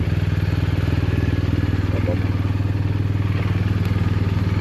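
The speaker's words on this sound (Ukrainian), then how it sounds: "Завели ми мотоцикл трошечки прогріти." A motorcycle engine idles while warming up before a mountain ride, a close, loud, steady rapid thumping pulse that holds evenly throughout, with brief faint talk partway through.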